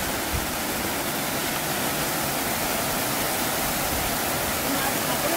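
A snowmelt stream rushes on a trek toward Api Base Camp, a steady broadband wash of flowing water that fills the whole stretch at constant level.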